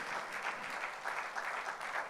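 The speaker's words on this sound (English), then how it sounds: "Let's give a round of applause to the Grossmont Union High School District" Applause from the audience at an education innovation awards event in San Diego, honoring a high school district; a fairly faint, steady patter of many hands clapping, heard alone with no voices.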